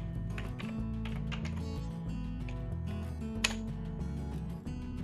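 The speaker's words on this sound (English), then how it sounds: "test the keyboard. And let's type some text." Keys on an iPad hardware keyboard are tapped at a steady pace, a close run of light clicks with one sharper keystroke, set against a constant low electronic hum.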